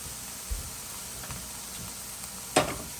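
Onions and ground beef sauteing in a pan for a hamburger-and-noodle casserole: a steady close sizzle with a few soft stirring bumps and one sharper scrape near the end.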